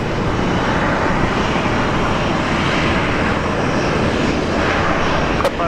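A Qantas airliner departs Brisbane Airport bound for Sydney, its jet roar steady and loud throughout, with broadband engine noise filling the whole stretch and no talk over it.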